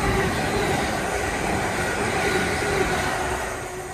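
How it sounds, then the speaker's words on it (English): A London Northwestern Railway Class 350 electric multiple unit, built by Siemens, passes through Tipton station with a steady loud rumble and wheel noise that fades slightly toward the end. "here comes a train coming past, class 3500, operated by London Northwestern"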